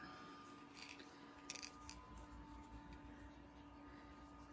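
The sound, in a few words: scissors cutting yarn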